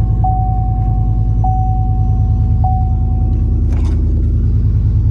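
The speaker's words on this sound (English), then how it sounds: "Little cold start" A pickup truck's engine idles steadily after a cold start, a loud, close, continuous low rumble with three evenly spaced dashboard chime tones and a brief rattle near the end.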